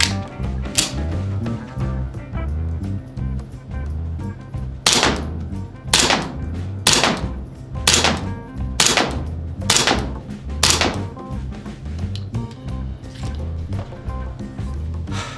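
A GBLS M1911A1 full-steel gas handgun fires its second magazine in a run of sharp, loud reports, roughly seven shots spaced unevenly over several seconds, each standing clear of a steady low background.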